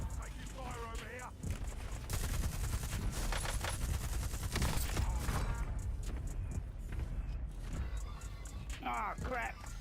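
Dense automatic gunfire rattles through a battle royale video game, continuous and loud with overlapping bursts. A player speaks over parts of it.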